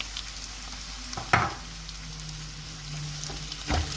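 Tomatoes and green chillies frying with garlic in a pan for masala karela, a steady soft sizzle broken by a couple of louder clatters as the ingredients go in.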